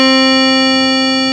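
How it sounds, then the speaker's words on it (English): A Eurorack synthesizer plays a single sustained note rich in high harmonics, giving a clear bell-like tone that rings steadily and loudly for its whole length, with no other sound. "Kind of like a bell tone."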